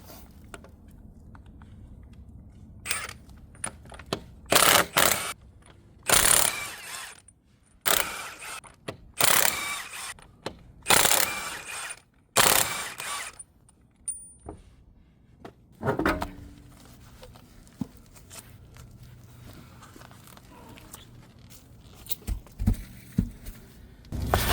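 Socket ratchet working on car wheel lug nuts with a 21 mm socket, heard as several loud bursts of clicking and mechanical rattling separated by pauses, no talking.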